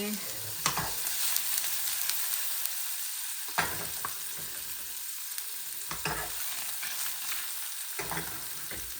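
Paneer sizzles steadily in a pan with cumin, a constant frying hiss broken by occasional stirring scrapes and crackles, close and fairly quiet, with no talking.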